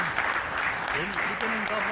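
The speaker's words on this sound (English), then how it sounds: "May we just give a big round of applause with this special day for Tomtom." Applause for a toddler's first birthday party fills the room, a broad wash of clapping with voices and cheering over it throughout.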